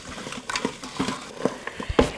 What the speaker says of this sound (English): Now we're going to stir it around